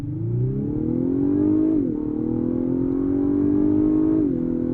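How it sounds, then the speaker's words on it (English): A Lexus LS500 engine revs hard and climbs in pitch on a full-throttle launch, boosted, shifting gears twice as it accelerates, loud and close throughout. "pin the throttle, build up some revs, and then shoot us off the line"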